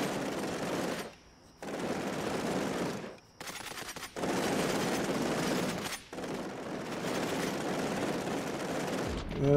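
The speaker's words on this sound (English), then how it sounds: "Something is shooting at us. What the hell is shooting at us?" Sustained automatic gunfire from the video game Cepheus Protocol, long loud bursts of rapid rattling fire broken by short pauses, dense and continuous with no voice over it.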